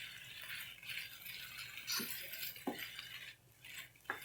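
A utensil stirs kamut and vegetables in a skillet, giving quiet scraping and rattling with a few soft clinks spread over several seconds, no talking.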